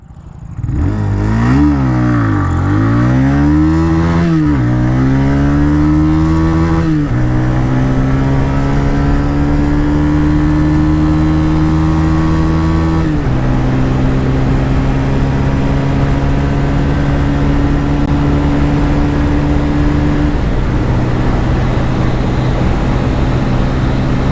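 A TVS Raider 125 motorcycle with a 125cc engine runs in power mode, accelerating hard from standstill toward 100, its engine note climbing steeply through the low gears and then more slowly, with several distinct drops at each gear change.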